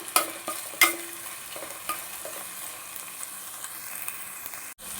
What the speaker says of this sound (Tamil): இதையும் நம்ம நல்லா சேர்த்து வதக்கிக்கலாம்.